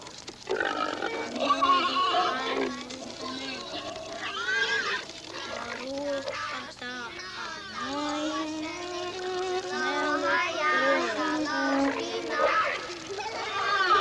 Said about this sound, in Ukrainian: Тату, там свиню ріжуть.